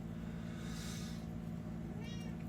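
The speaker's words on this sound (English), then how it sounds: "This is my cat, Jemmy." A pet cat meows once, clear and fairly close, over a steady low background hum in a room, with no talking.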